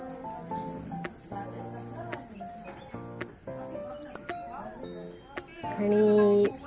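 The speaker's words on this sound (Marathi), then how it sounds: "इकडे संध्याकाळचे रातकिड्यांचा पण बघा की कसा आवाज येतोय." Crickets chirp through an evening scene in a village near Alibag, a steady high-pitched insect drone running continuously beneath intermittent human voices, with tonal bird-like calls and a louder burst near the end.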